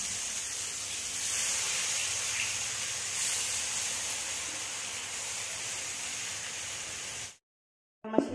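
Small fish frying in hot oil, a steady loud sizzling hiss that runs unbroken for several seconds, then cuts out abruptly near the end.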